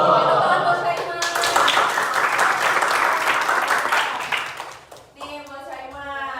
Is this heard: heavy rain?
no